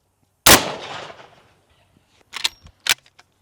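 A single .50 caliber sniper rifle shot into stacked reams of paper: one sharp, loud blast with a long rolling decay, followed by faint clicks and rattles of handling.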